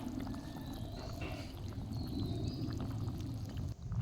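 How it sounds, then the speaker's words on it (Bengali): Fish pieces are added one by one into a simmering Bengali curry with potato and vegetable stems, giving a steady bubbling, sizzling wash with faint splashes and scrapes throughout, close and even in level, with no talk. "এখন এক এক করে সবগুলো মাছ দিয়ে দিচ্ছি।"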